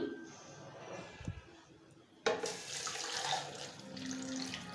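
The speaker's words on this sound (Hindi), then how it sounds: "ये 1 गिलास पानी हम डाल चुके हैं।" A glass of water is poured into a blender jar for watermelon juice. After a quiet start with a soft thump, a sudden, steady splashing pour begins midway and runs to the end.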